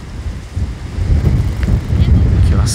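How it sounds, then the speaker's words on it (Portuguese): Strong wind buffeting the microphone on a beach at Pipa, Brazil, with low, gusty rumbling that swells and surges throughout. "Muito vento"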